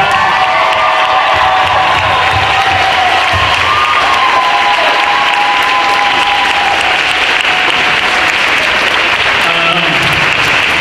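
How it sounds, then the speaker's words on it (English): A crowd gives loud, sustained applause and cheering for coaches at an end-of-season gathering, with children's shouts and whoops rising over dense clapping throughout. "give your coaches a big round of applause"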